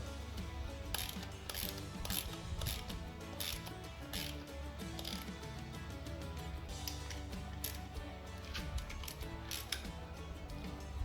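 Ratchet clicking in rapid bursts while tightening bolts on air-conditioning and power steering mounts on a Coyote-engined Cobra, a steady close mechanical chatter with no talk.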